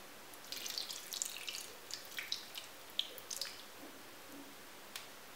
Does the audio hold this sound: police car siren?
no